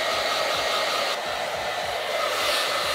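A hair dryer blows steadily and loudly throughout, a continuous broadband rush with a low rhythmic pulsing underneath, used during a haircut at home.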